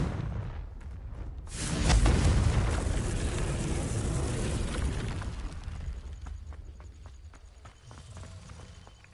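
A Confringo fire-blast spell explodes in the game Hogwarts Legacy, one sudden loud booming burst that rumbles and gradually fades over several seconds.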